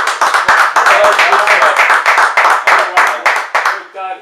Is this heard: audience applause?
yes